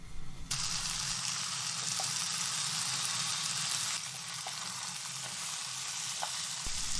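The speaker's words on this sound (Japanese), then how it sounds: "フライパンにごま油を熱します。 そしてレンコンを並べ入れます。" Lotus root slices hit hot sesame oil in a frying pan, setting off a loud, continuous close sizzle with small pops and clicks as pieces are laid in, and no voices.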